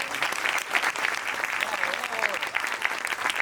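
Audience applause at a film discussion event at a film archive venue, a steady wash of many hands clapping, fairly close and sustained, with a voice briefly rising over it.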